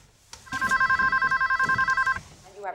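A telephone rings in a scene from a music video, a loud, rapid electronic trill that holds steady for about a second and a half before cutting off.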